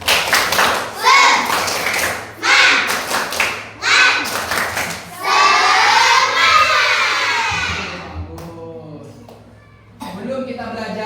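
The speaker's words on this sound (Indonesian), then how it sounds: "Coba kita tepuk semangat." A classroom of children performs the rhythmic 'tepuk semangat' spirit clap, loud close bursts of patterned clapping mixed with chanting voices, ending with a brief quieter stretch of talk.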